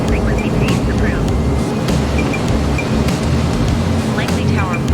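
An F-15C fighter jet in Microsoft Flight Simulator gives a loud, continuous low engine roar with a deep rumbling texture, while a person talks intermittently over it.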